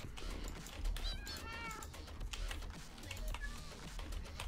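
Minecraft cats meow several times in quick rising calls over a dense, steady bed of game noise and clicking keys, fairly loud throughout.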